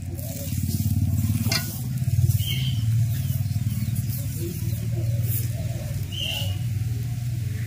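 Gola roti, a batter flatbread, cooks in a pan in a home kitchen with a loud, close, continuous sizzle and a rhythmic scraping texture, and occasional faint clinks sound in the background.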